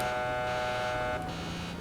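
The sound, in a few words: truck alarm sounding in video game GTA 5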